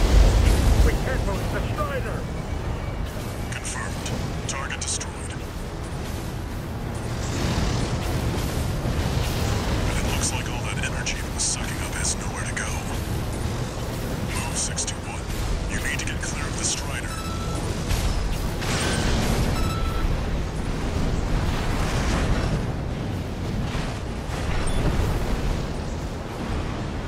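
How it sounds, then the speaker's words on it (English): A huge Strider boss in Armored Core 6 blows itself up, a long, loud, rumbling roar of explosions and booming blasts that fills the whole stretch, with voices speaking over it. "The Strider's blowing itself up."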